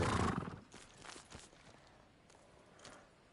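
Jin's horse in Ghost of Tsushima, a brief loud snort or whinny at the start followed by a few faint, scattered hoof clops.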